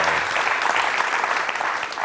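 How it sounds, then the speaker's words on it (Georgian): At the end of a comedy monologue on a TV show, a studio audience bursts into dense, loud applause that carries on evenly through the moment. "თურმე მონოლოგის ბოლოს შესანიშნავი ყოფილა ტაში"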